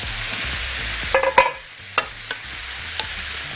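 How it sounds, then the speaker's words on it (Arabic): Vegetables stirred in a pan for a chicken and vegetable dish, with a steady background hiss and a cluster of sharp scraping clatters from the utensil, followed by a few lighter taps, close up with no talk. "بصوا شوحنا الخضار كله كويس قوي"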